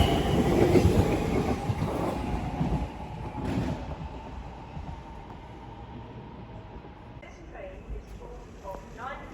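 Train passing through West Ealing station on the Great Western Main Line, a loud close rumble and rail clatter that fades over several seconds, with voices audible in the background.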